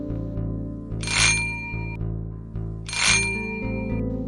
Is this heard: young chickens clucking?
no